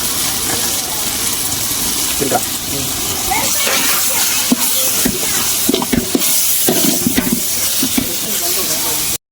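Chicken with chicken masala, curry masala and coriander powder sizzles loudly in a pan while a spoon stirs and scrapes in repeated strokes, with a voice murmuring in the background.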